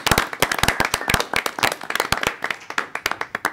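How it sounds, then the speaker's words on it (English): Applause at a village board meeting for public works staff, a small room of people clapping with sharp, dense, uneven hand claps, close and steady throughout. "So please give a hand for Ralph and his staff."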